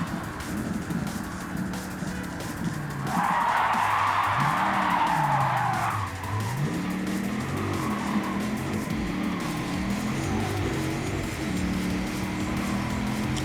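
Race car in Gran Turismo 7 scraping along a wall: a steady engine drone with shifting pitch, broken by a loud skidding, grinding squeal lasting a few seconds before the engine carries on alone.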